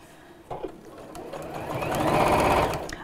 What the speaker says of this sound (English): And then we'll sew across the top of this like this.